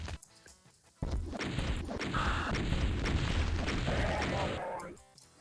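Rocket launcher firing and exploding in the shooter game Doom II: a loud, dense burst of blasts and crashes runs steadily for about four seconds, then fades out.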